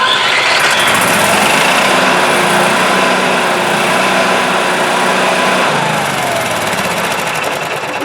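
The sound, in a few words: RV generator engine running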